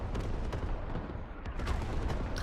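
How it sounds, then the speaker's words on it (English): Creeping artillery barrage in Squad rumbles as a dense low roar of distant impacts and blasts, continuous and muffled with a few sharper hits. "Creeping barrage is chasing the warrior."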